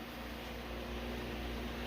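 A fan runs in a home workshop during a 1945 Willys MB jeep rear panel install, giving a steady, even whir and hum that stays faint and constant with no talk over it.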